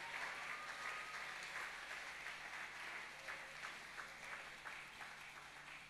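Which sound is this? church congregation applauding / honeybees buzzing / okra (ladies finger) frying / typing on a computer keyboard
church congregation applauding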